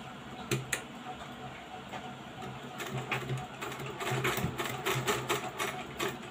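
A sewing machine stitches a fabric bow for a blouse, running in steady mechanical bursts with ticking, clattering motor noise that rises and falls across the clip, close and moderately loud with no talking.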